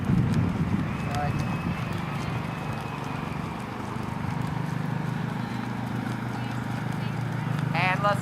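Horse hooves clip-clop in a steady cantering rhythm during a dressage lesson in an arena, close and continuous, with a faint whinny near the end.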